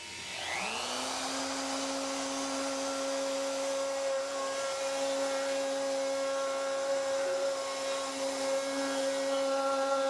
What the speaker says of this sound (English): I'm going to slowly plunge while it's on, and I'm going to start carving out my bowl